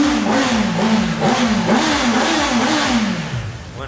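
A motorcycle engine without a licence plate revs repeatedly, close and loud, rising and falling in quick throttle blips before easing off at the end.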